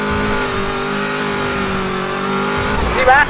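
A car engine in a video game holds a steady, loud drone, then revs up sharply with a rising whine near the end.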